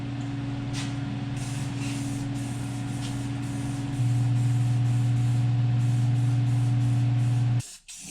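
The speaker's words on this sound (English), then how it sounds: "Now we're going to hit it with some black spray paint and let it dry overnight." Black spray paint hisses continuously from an aerosol can onto a truck cross member in a garage, a steady close spray over a low mechanical hum that grows louder halfway through and cuts off abruptly near the end.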